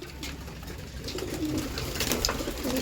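Pigeons in a crowded cage holding about forty birds coo softly and continuously at close range, their low rolling calls overlapping against a faint background murmur.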